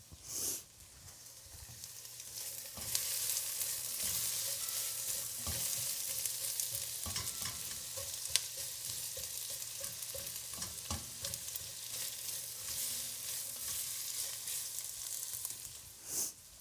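Onions caramelizing in a pan, a steady bright hiss of frying that runs for many seconds, broken by occasional stirring scrapes and taps, with no talk over it.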